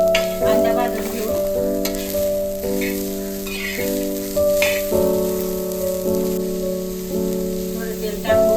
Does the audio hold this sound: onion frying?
yes